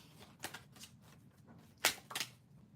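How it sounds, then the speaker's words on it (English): Tarot cards shuffled by hand during a live reading, heard as a few soft riffling bursts that are close and fairly quiet, with a sharper, louder flurry near the end. "Let me just shuffle the cards."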